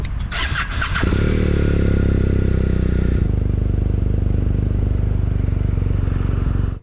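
A BMW R 1250 RS motorcycle on Michelin tyres gives a loud, close, steady engine drone with a brief rattle at the start, then settles into a constant riding rumble.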